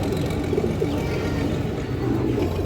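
Young pigeon chicks of fancy breeds coo softly and steadily in a loft, a low murmuring hum that runs throughout with no talk over it.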